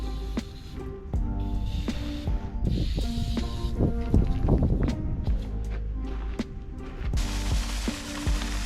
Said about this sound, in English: Here I'm soaking the bricks and spraying the surface area where I'm going to be laying the bricks